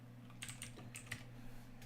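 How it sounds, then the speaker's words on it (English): Rapid typing on a computer keyboard during a live online debate, with a quick run of light, close clicking keystrokes in small bursts over a low steady hum. "I can hear you typing."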